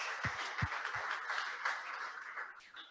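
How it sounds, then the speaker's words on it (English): Applause at an evening wine and tourism event, a few close hand claps at the start, then a fainter wash of crowd clapping fading out. "One more round of applause."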